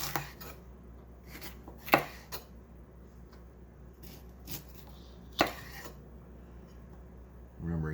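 A knife cutting food into strips on a board for a breakfast quesadilla, giving several sharp, spaced chops close up and fairly quiet, with talk between the strokes.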